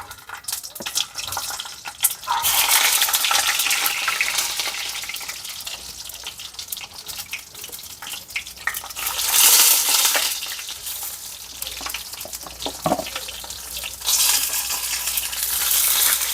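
Stuffed eggplants fry in a pan with a continuous loud sizzle, broken by occasional scraping and stirring noises that rise and fall.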